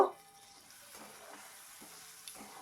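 Vegetable stems with salt and turmeric stirred in a pan, giving a quiet, steady sizzle with a few soft scrapes of the spoon after an initial clatter, heard close and alone.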